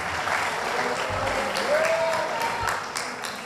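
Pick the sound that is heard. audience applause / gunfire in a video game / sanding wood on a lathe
audience applause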